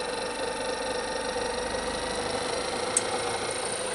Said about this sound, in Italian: Adesso posso aumentare un po' la velocità del motore, quindi agisco sulla continua.